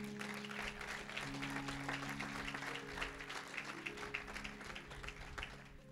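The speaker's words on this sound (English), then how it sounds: "Go ahead and give them a clap." A church congregation claps for its preachers, a soft, steady patter of many hands heard from a distance under a low, sustained hum.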